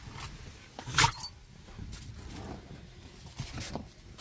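A dog sits inside a pet carrier bag in a car and gives one short, sharp bark or yelp near the middle, with low cabin rumble steady underneath.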